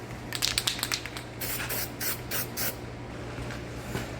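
A can of 3M Weld-Thru Primer sprays onto metal parts of a Jeep TJ front axle lower control arm mount in a series of short hissing bursts, close by, over a low background hum.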